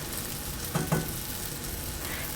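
Egg-dipped strawberry Nutella French toast roll-ups are laid seam side down into a hot pan. A soft, steady sizzle runs throughout, with two brief louder spatters near the start. No one speaks.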